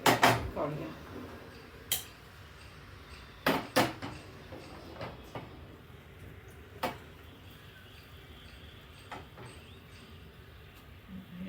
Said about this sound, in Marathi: आता आपण हे या भांड्यामध्ये काढूया.